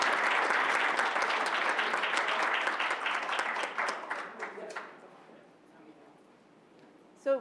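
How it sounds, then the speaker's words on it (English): A crowd applauds loudly and steadily at a Hispanic Heritage Month celebration and board business meeting, the clapping gradually thinning and fading out toward the end. "they deserve an even more thunderous round of applause for that"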